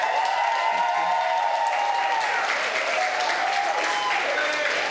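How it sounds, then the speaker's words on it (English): Steady applause from guests and audience at a poetry event, continuous dense clapping at even loudness, with faint voices and a thin tonal hum beneath. "So I want the guests now to give the audience, the visitors, a round of applause."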